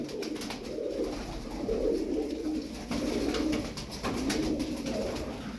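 Tumbler pigeons coo in a loft, with soft, throaty rolling calls overlapping in steady waves, close and continuous, and no talking.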